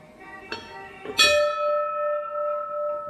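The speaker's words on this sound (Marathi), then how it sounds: "घंटेचा आवाज आपल्याला बघतोय की खणखणीत कसं येतो फार जुन्या घंटा आहेत" Two old temple bells struck close together, the second ringing out loud and bright with a long, shimmering sustain.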